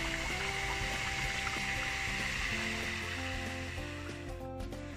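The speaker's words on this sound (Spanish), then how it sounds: "Lo dejaremos un ratito que se vaya friendo bien." A constant, even sizzle of pork frying in a pan for Extremaduran manteca colorá, a soft hiss with a faint tonal hum underneath and no talking.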